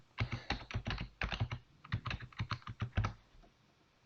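Quick bursts of typing on a computer keyboard while a temporary password is entered, close and clear key clicks in uneven runs with short pauses and no talk.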